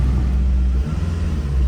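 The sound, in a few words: Acura RSX Type-S engine revving with stock exhaust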